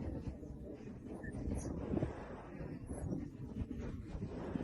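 Strong wind at a Punta Cana resort in the Dominican Republic, a continuous low buffeting roar pressing on the microphone, fairly faint overall with gusty swells throughout.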